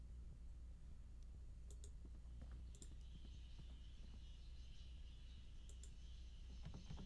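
Sparse, light mouse clicks tick at irregular intervals during play of the point-and-click game The Last Door, set over a low steady hum with no talking.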